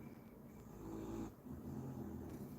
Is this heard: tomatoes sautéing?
no